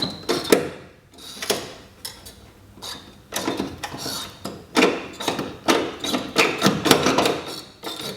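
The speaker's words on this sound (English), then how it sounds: "This is the worst pop rivet gun ever made." A pop rivet gun pulling rivets during a Datsun 260Z coupe rebuild, heard as a series of close metallic clacks and snaps in irregular bursts, each rivet followed by a rattling squeeze of the tool.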